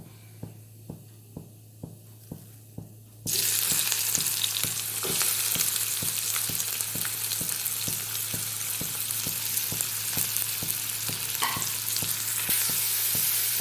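Fennel seeds and onions hit hot oil for an egg masala burger: a quiet tapping opening bursts into a loud, steady sizzle and crackle that lasts throughout, with faint regular ticks underneath.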